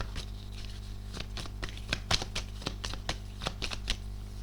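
Tarot cards are shuffled by hand in a quiet room, a rapid series of soft riffling flicks and taps close up with no one talking.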